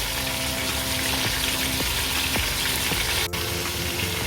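Fish pieces frying in hot oil in a pan on the stove, a steady loud bubbling sizzle throughout with a few faint clicks and taps from the pan, no talking.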